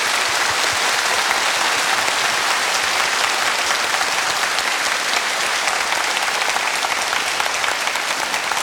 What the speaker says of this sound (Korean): 다시 한번 구당 선생님께 큰 박수 부탁드립니다.